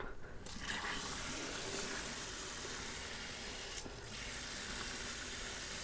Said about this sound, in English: I actually need to go get my hose and fill these up before I put it back together.